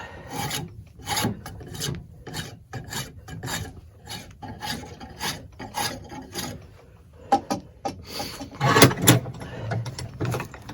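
Hand tool shaving wood on a timber frame joint in a workshop: steady, rhythmic rasping strokes, close and moderately loud, repeating for about ten seconds with no talking.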